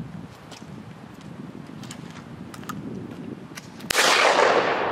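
A Tristar firearm fired at an outdoor range: one sharp, loud shot cracks out near the end after a quiet stretch of faint background clicks and rustle.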